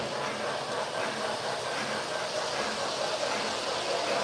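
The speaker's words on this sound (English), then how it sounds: "running the American Freedom set with some extra Lionel passenger cars that I picked up" A Lionel model train, the American Freedom set pulling extra passenger cars, running with a continuous dense rumbling whir that stays steady and close throughout, with no talking.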